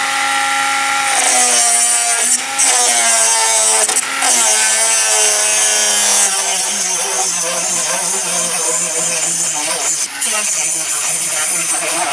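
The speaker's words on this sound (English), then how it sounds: "I'm just gonna have to get in here with the Dremel and cut the head off" A Dremel rotary tool grinds through a bolt head on a C3 Corvette's T-top fittings, a loud, steady high-pitched whine with shifting pitch as the cutting wheel bites and eases, dipping briefly a few times, running continuously throughout.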